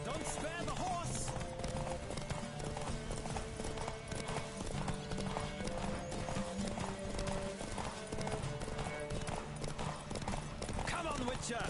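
Hooves pound in a steady galloping rhythm during a horse race in The Witcher 3, continuous and fairly loud, with a brief whinny and voices calling out over the hoofbeats.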